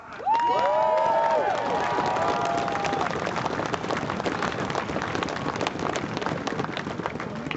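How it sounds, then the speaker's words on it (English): Demonstrators at an outdoor rally to save RAF Lossiemouth cheer loudly, with a few high whoops at the start and then a sustained roar of crowd noise and clapping. "all of you who are here demonstrating have given yourself a cheer"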